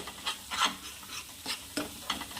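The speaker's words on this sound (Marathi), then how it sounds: "त्या मसाल्याने आणि छाण्याला फिरवून घ्यायचं आहे गॅस थोडा स्लो ठेवायचा आहे" Masala and chana are stirred as they fry in a pan over low gas, with repeated scraping strokes of a spoon rising and falling over a soft sizzle, close and fairly quiet.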